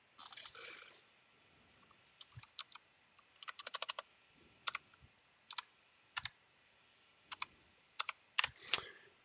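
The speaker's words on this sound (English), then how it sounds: "I'm typing in the codes." Codes being typed on a computer keyboard, heard as irregular bursts of sharp clacking keystrokes with short pauses between them, including one quick rapid run of keys, close and clear in a quiet room with no talking.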